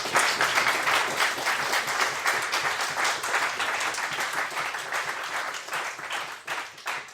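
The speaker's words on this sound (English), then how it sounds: "Please give Marcell a final applause." An audience at a C++ security talk claps steadily for several seconds, a dense, lively burst of applause that continues evenly and tapers slightly at the end.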